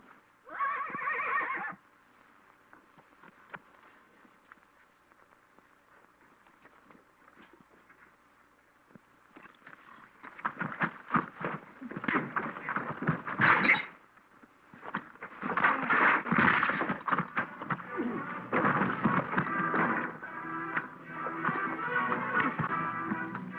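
A horse gives a brief whinny, then after a quiet stretch its hooves clatter and pound irregularly as it rides off, loud and close at first with a rough, outdoor quality.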